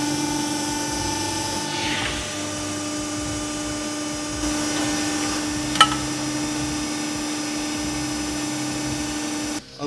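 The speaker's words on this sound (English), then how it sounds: "now we've switched the pump off, make things a bit easier to listen to" A pump runs with a steady, even drone and constant tonal whine for the full length, with a brief click partway through and a soft thump at the end.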